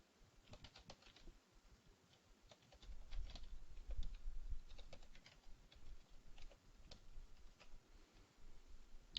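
Intermittent clicking keystrokes on a computer keyboard while entering software unlocking keys, irregular bursts of taps over a low background rumble, close and moderately quiet.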